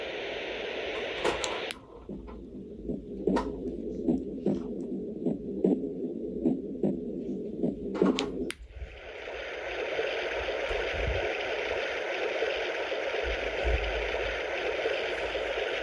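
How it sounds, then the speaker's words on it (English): Tommee Tippee Pip the Panda sleep aid playing soothing sounds: a steady rhythmic heartbeat-like pulse, then a switch to continuous rushing rainfall or wind noise, with button clicks between. "This side controls the different sounds that it makes."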